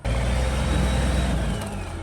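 A SHERP amphibious vehicle's engine roars steadily as it drives forward in third gear, loud and close, holding a high drone before easing off near the end, with no talk.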